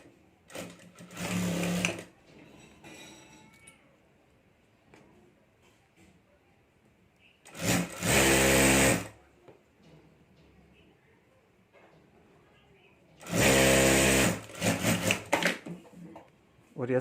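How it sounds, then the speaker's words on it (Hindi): A sewing machine stitches a zipper and fabric lining onto a homemade clutch purse, running in three loud bursts of a couple of seconds each separated by quiet pauses. "यहाँ मैं सिलाई करके जिप और ये अस्तर जोड़ देता हूँ।"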